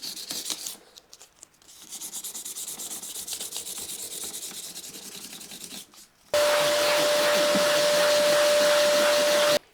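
Fine 800-grit sandpaper rubs across guitar frets in a close, continuous scratchy hiss, followed by a loud, steady mechanical whir with a sustained tone over the last few seconds.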